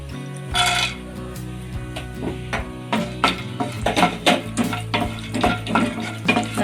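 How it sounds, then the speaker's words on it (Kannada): Raisins and cashews roast in ghee in a pan, a steady low sizzle beneath repeated scraping and clinks of a spoon stirring against the metal, close and fairly loud throughout. "ಈ ತುಪ್ಪಕ್ಕೆ ಮೊದಲು ದ್ರಾಕ್ಷಿ ಗೋಡಂಬಿ ಹಾಕ್ಕೊಂಡು ಹುರ್ಕೋಬೇಕು"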